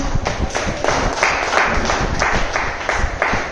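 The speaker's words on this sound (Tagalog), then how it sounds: "Palakpak sa ating mahal na Panginoon." A church congregation at a Filipino Bible study breaks into steady, dense applause for the Lord, many hands clapping together at close range and fairly loud, with the energy rising and falling slightly across the few seconds.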